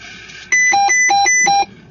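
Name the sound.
beeping from a weather station during a hurricane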